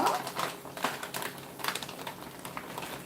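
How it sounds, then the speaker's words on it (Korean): Scorched rice crust (nurungji) frying in oil in a home kitchen, with a steady close crackle and sizzle and sharp pops scattered through it, and no talking. "튀기는 거 제가 보여드릴게요. 어떻게 튀기나 보세요."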